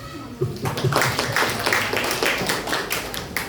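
A small group at an English debate claps for a few seconds, scattered, uneven handclaps nearby after a brief lead-in.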